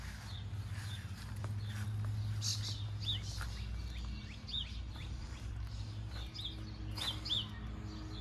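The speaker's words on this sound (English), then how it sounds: "You got a bird up there." Small bird chirping outside a house with aluminum siding, a few faint, high, quick tweets scattered over steady low outdoor rumble, moderately distant with no talk.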